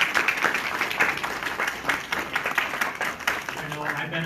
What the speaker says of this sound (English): I want to ask you all to give a round of applause to both of our panelists.